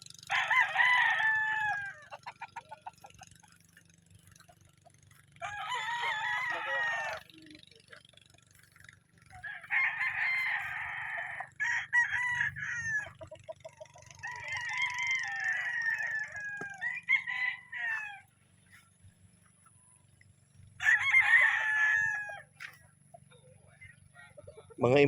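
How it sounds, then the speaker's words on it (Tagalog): Imported gamefowl roosters on a game farm crow in repeated bursts, several loud and close with others farther off, with clucking between calls and a low steady hum beneath. "Kasi talagang imported tong mga manok."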